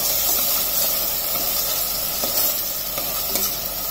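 Chopped tomato stirred into frying onion and ginger masala for aloo gobhi, a loud continuous close sizzle with stirring scrapes and no talk.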